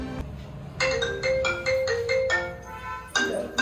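An electronic phone ringtone plays a repeating tonal melody, loud and close, broken by a short pause before it resumes; no voices.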